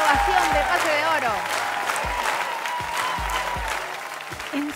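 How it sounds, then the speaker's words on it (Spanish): Audience applause and ovation at a televised talent show audition, celebrating a golden buzzer moment for a young accordion player; steady, dense clapping fills the room throughout, with music and voices mixed in underneath. "el público lo pide. ¡Quiere ovación de pase de oro!"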